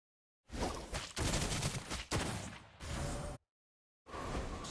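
Rapid bursts of gunfire from a Clint gunslinger character in a shooter video game, loud and close, in several dense volleys separated by short silent gaps.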